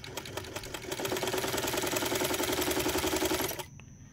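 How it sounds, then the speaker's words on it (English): A Montgomery Wards Damascus potted-motor sewing machine with a worm-gear drive stitches through fabric, starting up and running in a steady, fast mechanical clatter for about three seconds before stopping abruptly, close and loud. "Let's lower the needle and let's get her to sew."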